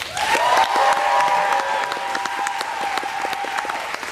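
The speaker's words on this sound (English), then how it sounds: "let's poll the audience by your applause" An audience in a cruise ship lounge answers a comedy podcast poll with a burst of applause and some cheering, the clapping dense at first and then fading, with a sustained tone running underneath.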